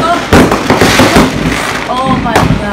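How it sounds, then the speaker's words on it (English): Independence Day fireworks burst loudly and continuously, a dense barrage of crackling pops and booms with people's voices and cheering mixed in underneath. "See all the fireworks."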